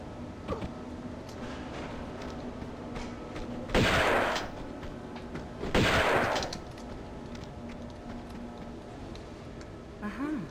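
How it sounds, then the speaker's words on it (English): Bursts of Uzi fire in a Tomb Raider game, two loud sustained volleys a couple of seconds apart over a steady game background. "Should be able to use the Uzis for quite a bit."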